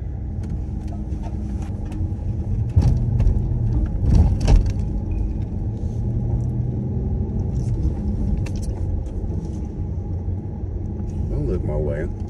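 A car being driven, with a steady low engine and road rumble running throughout while people talk inside the vehicle.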